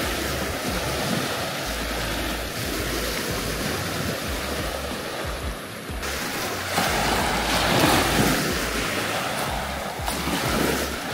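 Waves wash continuously at a small beach in a Karaburun cove, a loud, close, rolling surge of surf that swells louder after the halfway point, with no voices.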